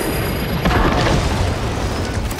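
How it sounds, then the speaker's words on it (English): A melter bomb detonates in the video game Warhammer 40,000: Space Marine 2, a loud, heavy blast of rumbling noise that swells briefly and holds without dying away. "Melter bomb deployed!"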